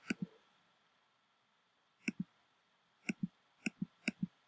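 Mouse clicks while a Google Forms quiz is being set up, each one a crisp close double click, heard in four separate pairs spread across a quiet background.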